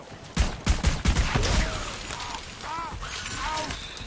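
Gunfire in the Borderlands 3 video game, a brief cluster of sharp shots and impacts near the start, followed by electronic game sounds with tonal chirps.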